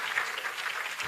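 Steady, fairly faint audience applause at a pharmacists' association national conference opening ceremony, a continuous wash of clapping with no voices over it.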